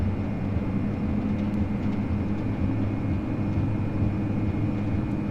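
Turboprop engines of a Majestic Q400 at takeoff power in a flight simulator, a steady loud broadband roar with a deep low drone that holds constant throughout, with no voices.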